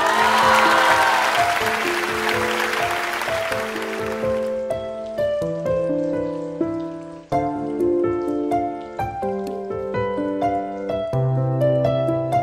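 A live show audience claps loudly to welcome a singer for about four seconds, then the clapping fades as instrumental music takes over.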